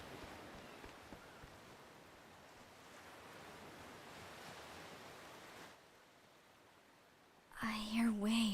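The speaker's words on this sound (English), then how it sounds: "I hear waves." Ocean waves wash in Octopath Traveler 2, a soft broadband surf hiss that rolls on steadily and drops quieter near the end, followed by a brief musical tone.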